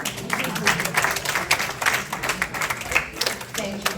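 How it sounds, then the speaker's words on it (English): Audience clapping as a guest walks onto a stage at a talk event, scattered uneven claps in irregular bursts with someone talking over them. "Round of applause for her as she comes, please, please, please, please."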